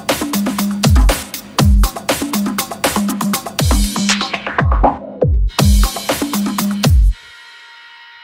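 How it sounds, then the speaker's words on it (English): A punchy Cubase drum loop with kicks and snares whose low end is gradually thinned out by an automated high-pass filter sweep with resonance, ending abruptly with a brief ringing tail. "automate a high pass filter and the resonance using the channel strips EQ"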